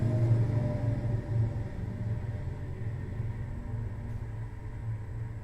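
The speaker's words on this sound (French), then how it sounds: "Le dernier bruit est un bruit de trafic routier." Road traffic heard through an open window: a steady, muffled low rumble of passing vehicles, moderately loud and continuous, with no talking.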